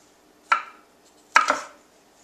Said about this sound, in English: and then just dice it.